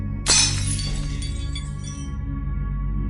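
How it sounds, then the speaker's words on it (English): Glass cracking and shattering, a sudden loud burst of breaking glass followed by brief tinkling fragments over a steady low hum, no voices. "And the glass cracked."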